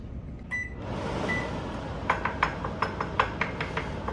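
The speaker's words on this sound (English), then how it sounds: "We're gonna have to turn on that fan," A kitchen exhaust fan starts over a stovetop where bacon is cooking, its steady broadband whoosh filling the room while pans and utensils clink sharply in a loose rhythm on top.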